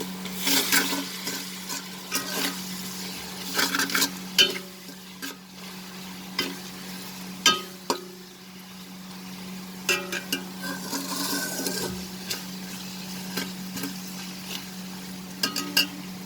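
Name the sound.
potato pulao spices being stirred and sautéed in a pan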